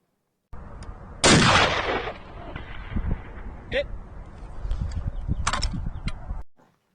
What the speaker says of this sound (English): This next one, we're shooting at 340 yards on a 10-inch plate.